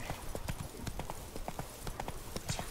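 Roach, the horse in The Witcher 3, gallops in a quick, even clip-clop of hooves, steady and moderately close under a quiet game backdrop.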